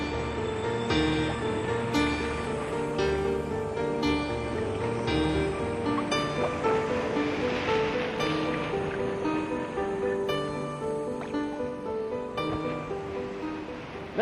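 Ocean waves wash on a beach on the Coromandel coast of Tamil Nadu, a continuous surf rush mixed with prominent layered music throughout.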